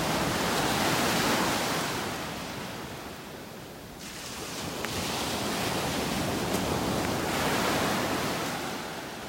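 Ocean waves rolling onto a beach in North Naples, Florida, a steady broadband wash of surf that swells and briefly eases midway before building again, close and fairly loud with no talking.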